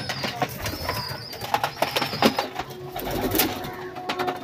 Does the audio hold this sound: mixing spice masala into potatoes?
no